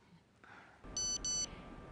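A mobile phone sounds a message alert as two short, bright electronic beeps in quick succession, loud and close over a low room hum, with no one speaking.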